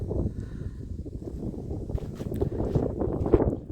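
Steady wind buffeting outdoors at the Khadzhybei estuary near Nerubaiske, Odesa, a continuous low rumble with gusty swells and faint rustling, no talking.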